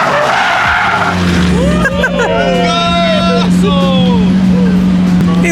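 Tires squeal and skid loudly as a million-dollar car drifts nearby at Monterey Car Week, its engine droning steadily underneath while a crowd murmurs and people talk.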